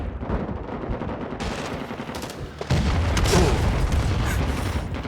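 Heavy, continuous gunfire and booming blasts fill a Cold Waters battle, with a grenade explosion landing midway and a dense roar of shots carrying on after it.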